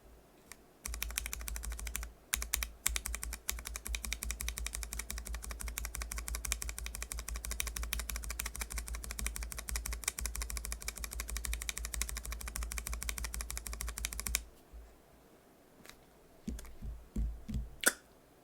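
Rapid typing on a mechanical keyboard fitted with NovelKeys BOX Cream switches, a dense, continuous clatter of crisp keystrokes for about fourteen seconds, then a few scattered presses after a pause.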